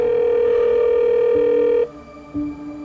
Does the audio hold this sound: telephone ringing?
yes